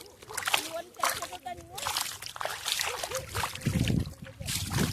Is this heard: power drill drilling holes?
no